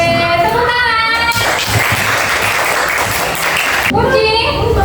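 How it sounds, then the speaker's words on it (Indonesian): Schoolchildren applaud together in a classroom during a civics lesson, a dense burst of clapping lasting about two and a half seconds, framed by voices talking before and after. "Oke, tepuk tangan."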